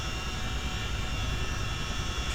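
CH-47D Chinook helicopter in Microsoft Flight Simulator, engines and rotors producing a dense, constant turbine whine and low throbbing drone at a steady, fairly loud level.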